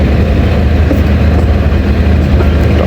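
The Jaffar Express passes through a station on the main line, a loud, steady, close rumble of wheels and engine that fills the whole stretch without letup.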